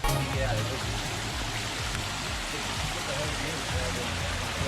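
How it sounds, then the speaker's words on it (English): Steady rain falls outdoors with a dense, even hiss of water, continuous and fairly loud throughout, with a low rumble underneath. "It's raining."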